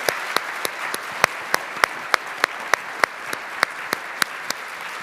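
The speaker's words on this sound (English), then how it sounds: "Can we have a round of applause for our panel?" Scattered, sparse clapping from a small audience thanking a panel at a women-of-color-in-golf event, individual sharp claps spaced out in an uneven rhythm, moderately near.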